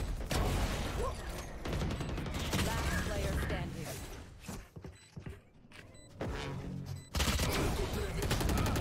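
Gunfire in a competitive shooter video game, rapid bursts and shots with mechanical clicks, loud then dropping briefly before resuming, with players talking over it.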